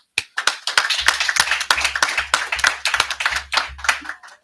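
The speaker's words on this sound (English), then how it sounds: "I just want to give a round of applause for the cooks." Crowd applause, a dense patter of many hands clapping steadily for several seconds, fairly close and loud, then tapering off.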